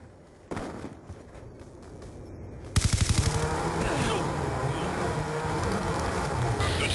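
A hijacked A-10 Warthog strafes targets in Black Ops II, its gun opening up as a rapid, loud burst of pulsing fire over a roaring, rushing wash of noise, with a quieter whoosh before it.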